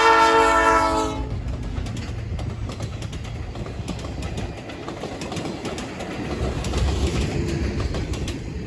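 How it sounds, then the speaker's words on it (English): An Alaska Railroad train running in near Anchorage at milepost 102.5 opens with a loud, sustained horn blast, then gives way to a continuous rolling rumble of the passing cars, with birds faintly audible. "as we watch the train make its final run in for the evening"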